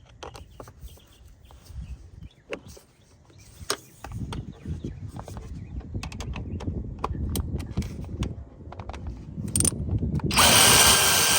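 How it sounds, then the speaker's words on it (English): A power ratchet works on the high-pressure fuel pump bolts of a 2012-or-later Hyundai Sonata, giving short bursts of whirring and clicking in an irregular rhythm, close by, ending in a louder sustained buzz. "I guess I use my overkill ratchet on this one."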